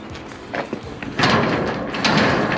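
A garage door rolls and rattles open with a sustained scraping, rumbling sweep, fairly close and loud, building in two surges.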